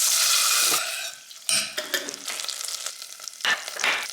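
Butter and tomato paste sizzle and crackle as they roast in a pan with a little oil. The frying noise is loud and broadband, with several bursts of stirring and no talk.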